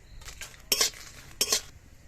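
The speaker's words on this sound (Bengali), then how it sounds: "শুকনো লঙ্কাগুলো তেলে ভেজে নেব।" Dried red chillies fry in white oil in a kadai, stirred with a utensil that scrapes and clinks sharply against the pan in two strong strokes over a faint background sizzle, close up, with no talking.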